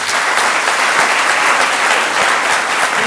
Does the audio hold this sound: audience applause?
yes